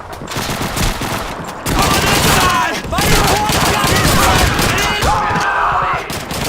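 Heavy World War II battle gunfire in Call of Duty 2, with dense overlapping rifle and machine-gun fire, loud and continuous, and shouting voices mixed into the din.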